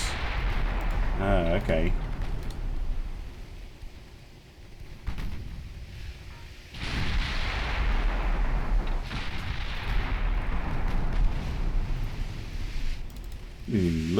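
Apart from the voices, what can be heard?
heavy naval guns firing in the video game Ultimate Admiral Dreadnoughts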